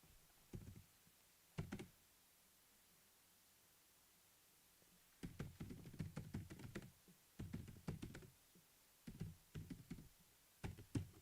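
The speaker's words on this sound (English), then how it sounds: "I am typing." Typing on an old laptop keyboard: faint scattered key taps in short bursts, with a pause in the middle followed by several quick clusters of clicks over quiet background hiss.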